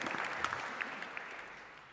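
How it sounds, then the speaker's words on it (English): Applause from a jazz memorial audience honoring baritone saxophonist Nick Brignola, a steady wash of clapping that starts moderately loud and gradually fades away, with no voices over it. "you can clap for Nick Brignola, man"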